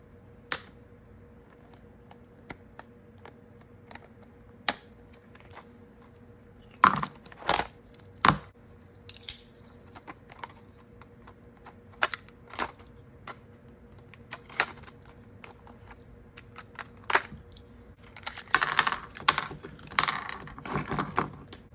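Packaging for a Husky ratcheting stubby screwdriver is handled and opened, with sparse close clicks and plastic taps that build into a denser burst of crinkling and rustling near the end.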